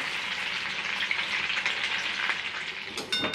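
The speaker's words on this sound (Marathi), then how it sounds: "त्यांना दोन्ही बाजूने मस्त तळायचं आहे" Sabudana vada deep-fry in hot oil with a steady, close sizzle that runs the whole time. A few brief clinks and stirring sounds come near the end, and no one speaks.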